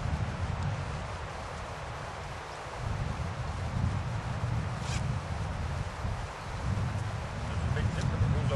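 Zipper on an internal-frame backpack being pulled, several rasping zip strokes mixed with fabric rustling and wind-like handling noise, close to the microphone, with a voice speaking at times.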